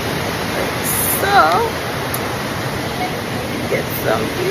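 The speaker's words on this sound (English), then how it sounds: "so we're here at the waterfalls." Continuous roar of waterfalls near Guatapé, Colombia, loud and steady throughout, with a few brief shouts and whistling voices cutting in over the rushing water.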